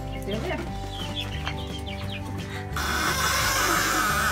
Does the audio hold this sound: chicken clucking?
yes